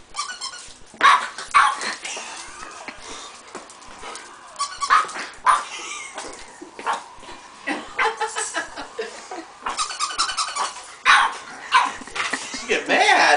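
A female dog barks and growls in agitated bursts at a squeaking squeaky toy, loud and close, with people talking over and between the barks.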